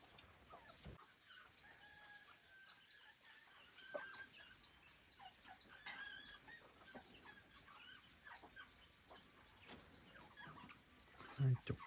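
Free-range jungle-fowl type chickens out grazing on grass cluck softly and intermittently, a rooster-like call rising now and then, faint and fairly distant with a louder burst near the end.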